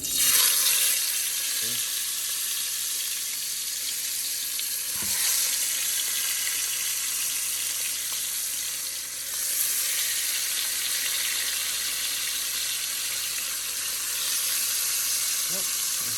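Food fries in hot oil during cooking for a baby shower, a loud continuous hissing sizzle close by, with faint knocks and brief surges, with no talking.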